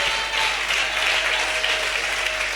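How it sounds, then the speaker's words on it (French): Church congregation applauding steadily throughout, a dense, even wash of clapping with no pauses, fairly loud and without talk. "On acclame le Seigneur pour son serviteur."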